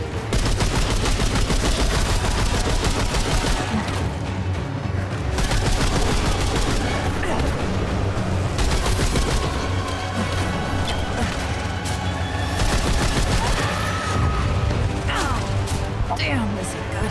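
Rapid gunfire from the shooter game Remnant 2, dense overlapping shots and bursts blasting loudly and almost without pause for the whole stretch.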